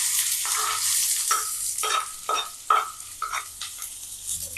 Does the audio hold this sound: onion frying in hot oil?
yes